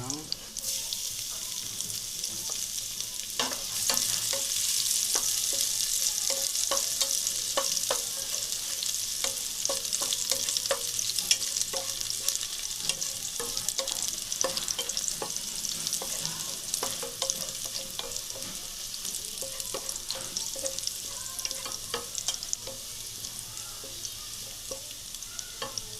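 Garlic frying in a pan gives a constant, close sizzle that lasts the whole stretch, punctuated by repeated utensil scrapes and clicks from stirring, with a faint voice now and then underneath.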